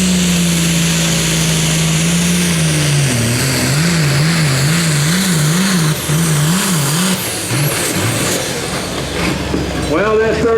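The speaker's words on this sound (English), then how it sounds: "International Harvester tractor on the line right here." International Harvester super farm pulling tractor engine at a Pro Pulling League event in Rio, Wisconsin, roaring loud and steady, its pitch wobbling up and down in rhythmic surges as it labours down the track, with faint talk underneath.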